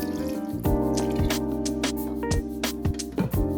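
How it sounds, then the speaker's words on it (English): A splash of wine is poured into a pot of clams and water, giving a close liquid trickle with repeated drips and small splashes over a steady background hum. "Add a splash of wine."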